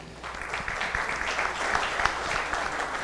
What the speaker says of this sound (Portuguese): Queria ter uma salva de palmas para eles aí.